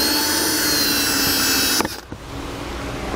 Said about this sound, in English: So what we're going to do is just drill a small hole in it, that way we can drop our wire through.